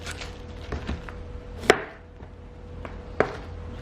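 A knife chops a small piece of red onion on a cutting board: a handful of sharp, close knocks, two of them louder, spaced irregularly over quiet kitchen background.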